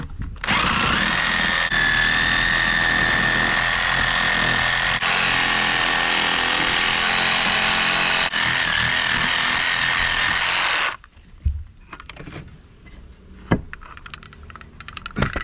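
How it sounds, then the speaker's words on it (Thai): A power saw, a reciprocating saw, grinds loudly and steadily through a lightweight concrete block for about ten seconds, then cuts off, leaving scattered knocks and clatter. "อีกงานหนึ่งนะที่ผมเคยใช้นะครับก็คือการตัดตัว อิฐมวลเบาแบบนี้นะครับ"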